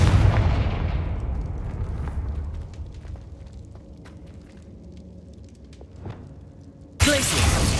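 Fire-spell explosions from the Hogwarts Legacy video game: a loud booming blast at the start decays into crackling rumble and scattered pops, then a second sharp burst hits near the end.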